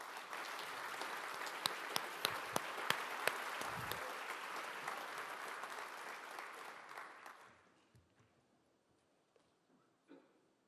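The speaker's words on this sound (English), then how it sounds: "Let's give the applause to the Holy Father." Audience at a World Food Day event applauding the Pope, a full wash of clapping with a few sharp individual claps standing out, then tapering off into near quiet with scattered faint sounds.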